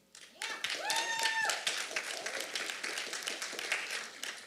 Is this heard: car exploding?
no